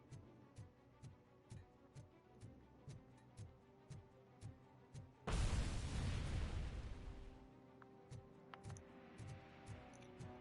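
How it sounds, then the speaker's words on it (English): A grenade explodes in the RoboCop video game, a loud burst that holds for about two seconds and then fades, between steady rhythmic ticking footsteps or mechanical clicks that run through the whole clip. "Why was there an explosion randomly?"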